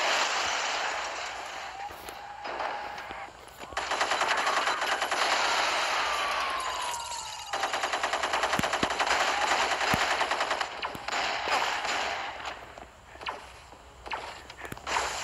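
Video game weapon fire from Gangstar Vegas comes in dense, rapid bursts. Long stretches of fast shots are broken by short pauses, with a few sharper single cracks near the end.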